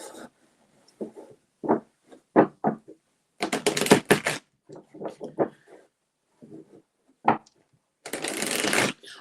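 A deck of playing cards being shuffled, with quick riffling bursts and softer handling taps between them, close and fairly quiet in an otherwise silent room.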